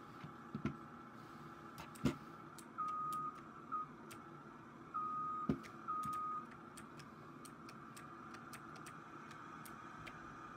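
A Case skid steer working in Farming Simulator 19: a low engine hum runs underneath several short, repeated backup-style beeps, punctuated by sharp clicks and clunks, all fairly quiet.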